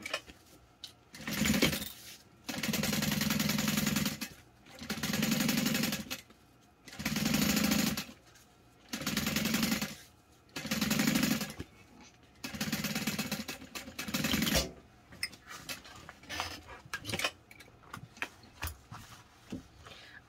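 A sewing machine top stitches fabric in six bursts of steady rapid stitching, each a couple of seconds long with short pauses between, followed by quieter handling rustles and clicks.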